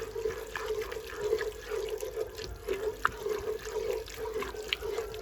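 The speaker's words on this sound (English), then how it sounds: "I'm actually going to put a good slug of red wine in at this point" Red wine pours into a pan of browning bolognese mince, a continuous gurgling liquid stream with light splashing and drips, fairly close and steady for several seconds.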